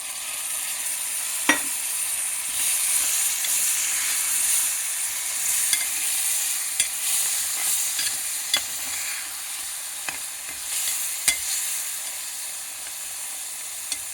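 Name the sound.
mutton frying in a pan with curd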